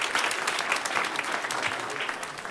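Applause from a congregation at a dedication service, a dense steady wash of many hands clapping at moderate distance, sustained evenly throughout with no clear voices above it.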